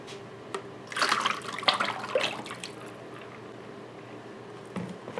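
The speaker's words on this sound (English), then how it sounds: "when I pour it into my buckets, that's usually when I get the most bubbles" Liquid soap batter for a candy cane holiday soap streams into buckets, a close splashing pour that swells for a couple of seconds then settles into quiet drips and faint handling noise.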